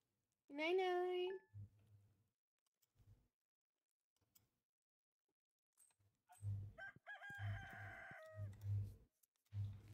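Chickens on a farm in the video game Stardew Valley, with a crowing rooster call at the start, then quiet, then a run of repeated clucks over low thumps. The game sounds come through crisply and alone.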